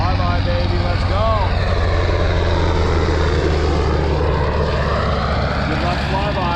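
A propeller airplane drones overhead on a fishing trip off San Diego, a loud continuous engine roar mixed with wind and boat noise that stays heavy throughout.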